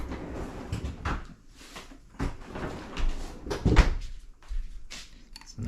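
A freezer door opens in a home kitchen during cheese cracker prep so butter can be taken out, with a few clunks and rustling handling sounds, fairly close and moderately loud.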